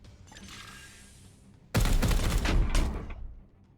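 Gunfire in Warhammer 40,000: Chaos Gate - Daemonhunters: after a low rising whine, a sudden loud burst of rapid shots hammers for over a second, then fades out.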